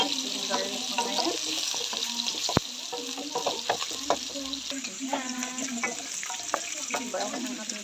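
Garlic for pork bihon sizzles steadily in hot oil in a pan, a bright crackling hiss broken by scraping stirs and a sharp utensil knock, close up and alone.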